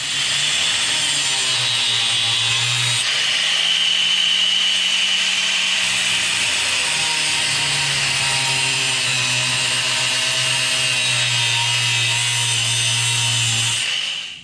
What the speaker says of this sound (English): it's kind of easier to use a grinder if you're not concerned with it